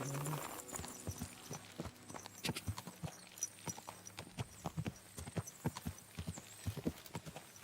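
Horse hooves clip-clop at a steady walking pace in the video game Kingdom Come: Deliverance II, a regular series of clear knocks, fairly close, with no talk.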